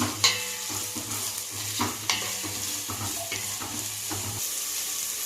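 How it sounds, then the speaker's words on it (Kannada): Green chillies, carrots and beans are stir-fried in a pan, with a spatula stirring and scraping in uneven strokes over a steady, close sizzle. "ಇದನ್ನು ಸ್ವಲ್ಪ ಫ್ರೈ ಮಾಡ್ಕೊಳ್ಳೋಣ."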